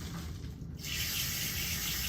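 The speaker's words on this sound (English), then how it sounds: "I'm going to open up the water." Water from a tap starts up partway through, a steady broadband rush that stays close and constant after a quieter moment of faint background hiss.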